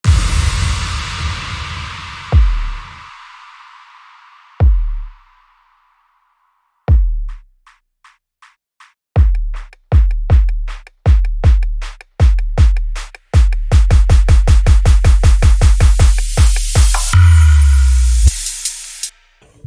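A melodic dubstep build-up from a remix: booming kick hits with pauses, then a steadily quickening snare roll that tightens into a dense rush, topped by a rising noisy sweep before the drop.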